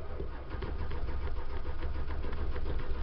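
A 1984 Dodge van engine on a cold start runs with a steady, loud, low rumble through the whole stretch, sitting close to the listener with no talking over it.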